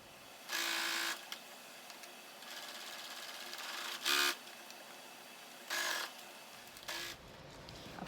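A sewing machine stitches a shopping bag's lining and outer fabric together with the burrito method, running in four short loud bursts separated by quieter pauses.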